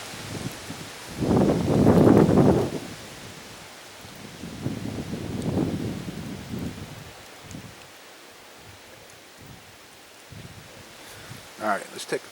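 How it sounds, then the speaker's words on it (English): Wind gusts outdoors at a basecamp cooking spot and rumble against the microphone in a loud rushing surge, then a weaker second swell before settling into quieter breeze. "I'll wait for this gust of wind to blow down first though."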